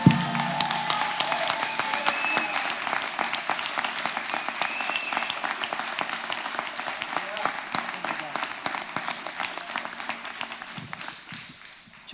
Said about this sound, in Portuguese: Isso merece um aplauso para Cristo.